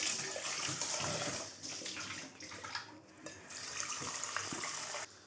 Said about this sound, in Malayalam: അത്യാവശ്യം അതെല്ലാം മുങ്ങിക്കിടക്കുന്ന രീതിയിൽ കുറച്ച് വെള്ളം എടുക്കുക